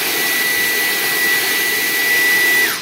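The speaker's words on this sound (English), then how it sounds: "Also good if you want to vacuum your carpets and that, but of course, when you're dealing with radios," A vacuum cleaner runs with a steady, loud whine and rushing airflow while it cleans debris out of an old FT-101E ham radio. The motor winds down at the very end, and no one speaks.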